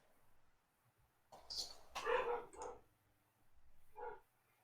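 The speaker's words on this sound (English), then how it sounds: "Dog's going off ahead." A dog barks a few times in bursts, moderately close, within a quiet indoor room during a live whisky tasting, with low background murmur between the yaps.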